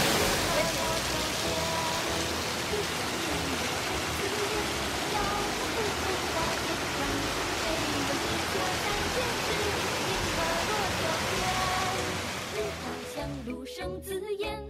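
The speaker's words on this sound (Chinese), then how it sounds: "龙宫瀑布位于嘉义县梅山乡，为瑞丰风景区内最为壮观的瀑布" Longgong Waterfall in Meishan, Chiayi, the most spectacular fall in the Ruifeng scenic area, roars as a dense, steady rush of water that stays loud and continuous before easing near the end.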